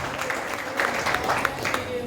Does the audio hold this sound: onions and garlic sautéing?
no